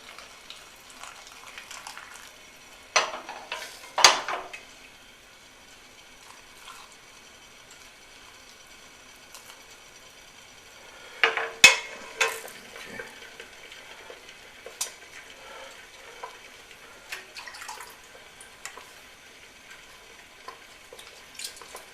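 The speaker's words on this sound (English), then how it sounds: "Now it's just a matter of ladling some of the vinegar" Vinegar ladled into hot jars fresh from the oven for pickling shallots, heard as soft pouring and liquid trickles with a few louder splashing bursts and clinks, close by with no voices.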